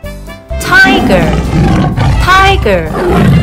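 Cartoon tiger roar in an animal quiz game, a loud growling roar with rising cries layered over continuous music.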